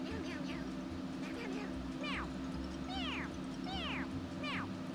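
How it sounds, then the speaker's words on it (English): Cats in the video game Mewgenics meow several times in short rising-falling calls, a few spaced cries over a constant low game hum and music bed. "I don't like this meow."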